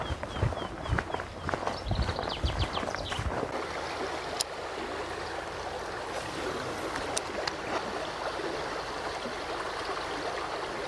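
Someone wades through a shallow, fast-flowing river while out fishing: heavy sloshing splashes at first, then settling into a steady close rush of current.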